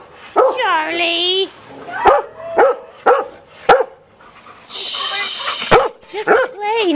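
An indoor dog barks repeatedly in loud, sharp yips and whimpering bursts inside a room, mixed with a person talking over and between the barks.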